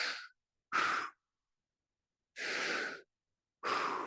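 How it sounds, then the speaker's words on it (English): Slow, deep breaths drawn in and pushed out through the mouth during a core exercise, four separate breathy rushes close to the ear with silent pauses between them. "6 deep breaths in through the mouth, out through the mouth"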